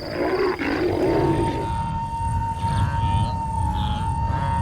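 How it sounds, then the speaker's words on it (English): A hungry lion on safari roars near a hunt, a low rumbling growl that swells and fades across several seconds over a steady tonal hum, with no talking. "Are we going to hear a lion and a buffalo?"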